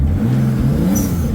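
A car engine revs up, its pitch rising and wavering in a short burst of steady mechanical drone, close and fairly loud.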